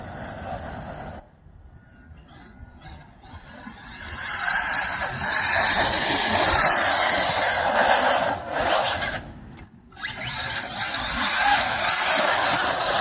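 Arrma Mojave BLX RC car running on a street and trying a wheelie: a high, whining electric motor that quiets briefly, then surges loud with a sharp cut-off before revving up again.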